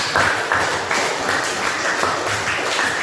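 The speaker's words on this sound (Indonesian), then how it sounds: "Silakan tepuk tangan untuk Ferry" Classroom applause for a student, a steady wash of many hands clapping at fairly close range that holds evenly for about three seconds before stopping abruptly.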